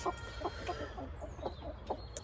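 A porcelain-colored Brahma hen clucks in a steady series of soft, close calls against a low background hum, with no voices.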